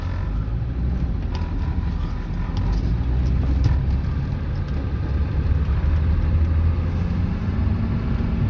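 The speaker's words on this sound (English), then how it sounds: "This truck idles very smoothly as well." A 1997 Ford F-250 pickup with a 7.3L Powerstroke diesel idles steadily and smoothly, a continuous low rumble with faint mechanical clatter, heard close up without talk.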